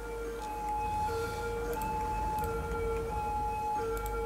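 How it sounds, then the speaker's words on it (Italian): An ambulance siren wails steadily through heavy traffic in Olbia, its sustained two-tone pitch holding loud and near for the whole stretch while engine rumble fills the low end beneath it. "Va l'ambulanza."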